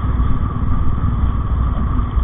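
A motorcycle engine drones steadily and loudly up close while the bike is ridden along an open highway in rural Rajasthan, a continuous low rumble with wind buffeting and no voices.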